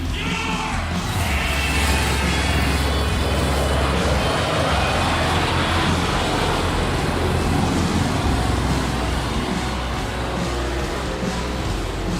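A pace car circles the track at a Daytona race event, its engine and road roar a steady, loud wash that carries without a break from start to finish, with no one speaking.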